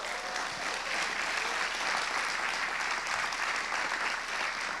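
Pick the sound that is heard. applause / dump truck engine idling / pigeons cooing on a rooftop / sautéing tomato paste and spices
applause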